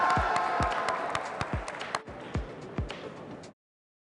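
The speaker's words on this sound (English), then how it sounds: "let's give him a round of applause for that awesome project" Audience at a tech league awards event clapping for a winning team, a dense spread of many hands with a few louder nearby claps standing out, fading out after about three and a half seconds.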